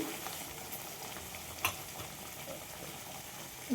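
Potatoes are sautéed in a pan, with Kashmiri red chili powder going in, for a fish kalia. A soft, even frying hiss runs throughout with a couple of faint stirring knocks.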